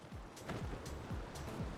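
Steady rushing water from a waterfall in a pirate-themed video game, a continuous even wash of noise with faint low murmurs underneath.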